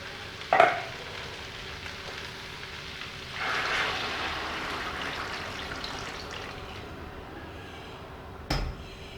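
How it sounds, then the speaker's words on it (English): Warmed stock poured into jambalaya in a pan: a brief clatter, then a soft rushing sizzle that swells and fades as the liquid goes in, heard close and fairly quiet, ending with a short knock. "I'm going to add my stock, and it's going to be stock to cover, and it's warmed stock."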